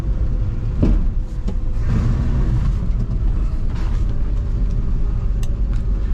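A Dodge Ram W150 truck with a worn transmission, formerly a plow truck, pulls away in first gear, giving a steady, loud low engine rumble with a few brief clunks and no talking.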